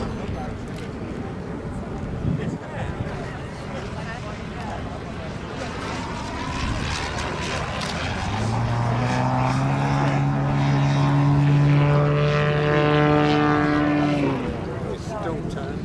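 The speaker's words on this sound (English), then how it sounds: "Steve Carr, Yak 54." A Yak 54 model aerobatic aircraft flying at a model air show, its engine droning and then swelling louder and higher as it passes closer, with the pitch shifting through the manoeuvre over open-air background noise.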